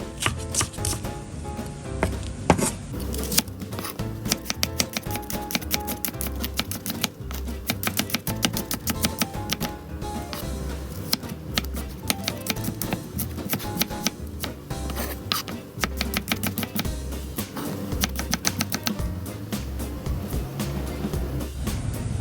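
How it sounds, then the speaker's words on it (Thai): Rapid, steady knife chops on a cutting board as shallots are sliced thinly, a dense run of sharp taps continuing for over twenty seconds with no talking. "จะเจียวหอมค่ะแล้วก็หั่นบางๆแบบนี้นะคะ"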